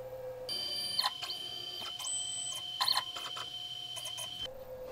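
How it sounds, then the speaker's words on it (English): A CNC machine jogs its bit into position for a wooden Ewor Stingray body, giving stepper-motor whines that rise and hold in pitch, with short clicking bursts between moves. "now I'm going to have to jog my machine over and get the bit lined up over that center point"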